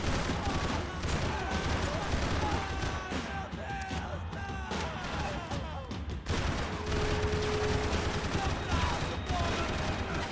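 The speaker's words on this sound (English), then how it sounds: "I don't even see the dot on the guy barely while I'm shooting." Rapid bursts of gunfire from shooting in Max Payne 3 crackle through the stretch amid game effects and music, with a player talking over the action.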